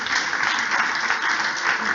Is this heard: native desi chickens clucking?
no